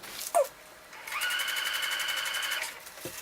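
A sewing machine stitching a rain skirt runs in one steady, close burst of about a second and a half, between brief faint handling noises.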